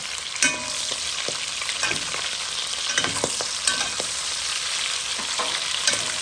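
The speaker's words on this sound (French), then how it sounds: "Je laisse les oignons rôtir un petit peu." Onions frying in hot oil, sizzling steadily close up with a dense crackle and sharp oil pops scattered throughout, alone with no voices.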